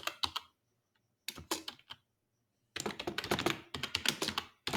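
Typing on a computer keyboard in short bursts of quick, close key clicks separated by brief pauses, the last stretch denser and faster.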